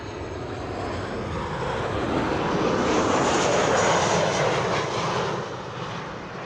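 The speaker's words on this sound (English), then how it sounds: "That was KLM flight 1164, arriving from Bergen, 737-700." A KLM Boeing 737-700 arriving at Amsterdam Schiphol Airport, its jet engine roar swelling to a broad rushing peak and then fading as it passes at moderate distance.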